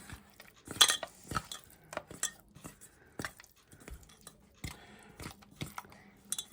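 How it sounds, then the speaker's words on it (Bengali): Hands mixing fish pieces with salt, turmeric and raw mustard oil in a metal dish, producing close, irregular squelches, taps and clinks that come in quick scattered bursts. "এই কাঁচা তেলটা দিয়ে একটু ভালো করে আরেকবার মাখিয়ে নেবো"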